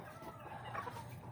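Backyard chickens being fed layer feed give soft, quiet clucks close by, heard alone for just over a second.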